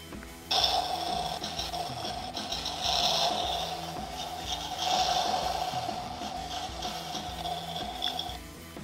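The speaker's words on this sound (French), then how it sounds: "En 5, c'est le son d'accélération." Engine acceleration effect from a sound module in a Corvette Stingray scale model car, a steady synthetic engine roar that swells in two surges, playing alone for about eight seconds.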